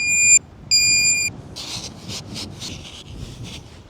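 A metal detector switching on gives two sharp electronic beeps, one short and one longer. Faint rubbing and shuffling handling noises follow close by.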